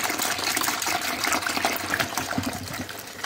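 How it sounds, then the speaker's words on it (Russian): Corrosion inhibitor liquid poured into a private house heating system, a steady close gushing pour of liquid with no talk. "Заливаем."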